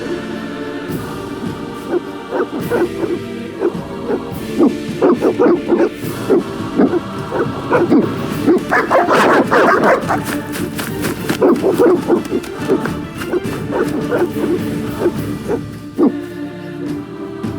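Dogs bark and yelp repeatedly over a dense, busy soundscape in The Witcher, the barks growing louder and more frantic in the middle before easing.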